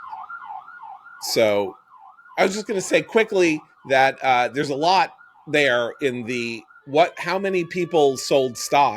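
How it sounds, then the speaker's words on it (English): An ambulance siren wails outside a window, its rising and falling tone running steadily through most of the stretch at moderate level beneath continuous talk from a man. "there's a ambulance outside my window."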